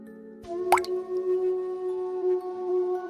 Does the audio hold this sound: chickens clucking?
no